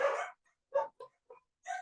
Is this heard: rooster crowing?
no